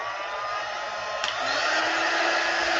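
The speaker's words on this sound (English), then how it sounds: "quick dry tool and just kind of soften it a little bit" A quick-dry heat tool blows a steady, loud stream of air to soften hardened paste, a continuous whooshing hum with a slight shift in pitch partway through and no talking.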